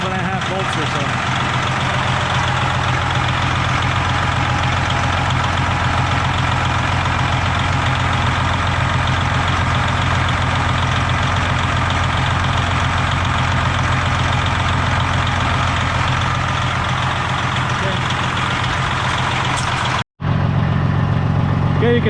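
A car engine idles steadily with a freshly replaced alternator now charging, a constant mid-low rumble that runs unbroken for about twenty seconds, drops out briefly near the end, then resumes.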